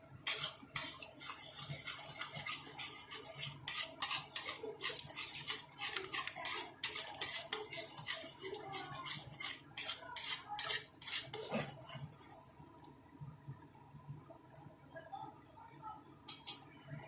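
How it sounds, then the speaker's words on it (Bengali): Eggs fry in about four tablespoons of oil while a metal spatula breaks them up in the pan. Busy scraping and clinking strokes repeat against the pan, then thin out and grow quieter near the end. "ডিমগুলো খুন্তি দিয়ে এইভাবে ভেঙে ভেঙে দেব যাতে ডিমের ঝুড়ি ভাজা হয়ে যায়।"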